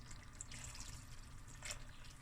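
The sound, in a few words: water poured into cooking pot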